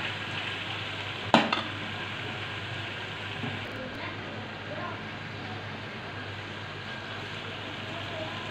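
Chicken and pumpkin sauté in a pan with a steady, moderate sizzle and one sharp clink early on, while a voice talks faintly over the cooking.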